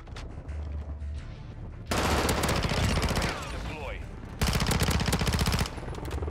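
Rapid automatic gunfire from a P90 submachine gun in Modern Warfare 2, loud sustained bursts in two long stretches with game ambience between, near and dense.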